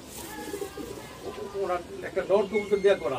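Pigeons cooing in a breeding room, a series of soft, throaty coos that grow louder and more frequent toward the end, with people talking in the background.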